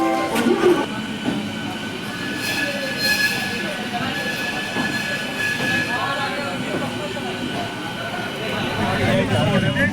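A train at a platform in Howrah station rumbles and clatters steadily with squealing wheels, the sound close and continuous, while voices talk over it.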